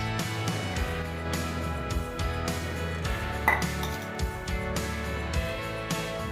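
A spoon stirring shredded boiled chicken sandwich filling in a bowl, with continuous clinking and scraping against the dish in a steady rhythm, close and fairly loud, no voices.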